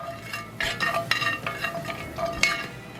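Butter melting in a hot pan for a whiskey peppercorn sauce, stirred with a metal spoon that scrapes and clinks against the pan in a series of close, uneven strokes over a soft sizzle.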